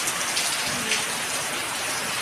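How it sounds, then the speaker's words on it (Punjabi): Steady rain falling, a dense even patter across the whole stretch with no voices. "ਮੀਂਹ ਪੈਣ ਡਿਆ ਆਪਣਾ ਮਨ ਮਰਜ਼ੀ ਨਾਲ"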